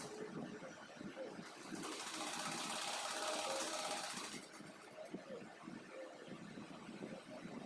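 A sewing machine stitching a narrow double-folded fabric strip for a small doll dress, giving a faint, continuous mechanical whirring and rattle that swells in the middle, with quiet room noise around it.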